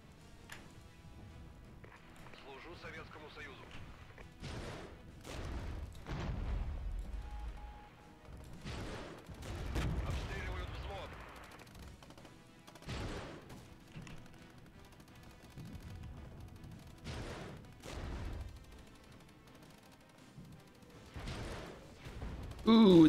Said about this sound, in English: The artillery's coming in.